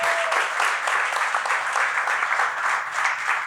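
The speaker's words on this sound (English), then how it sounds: "Let's clap for her one more time." An audience claps steadily for a storyteller at a live story-sharing event, the applause dense and sustained throughout with no gaps.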